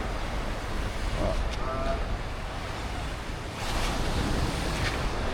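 Rushing water pours down the Three Cascades waterfall in a steady, loud, broadband roar that stays close and continuous, with a gusty edge of wind throughout.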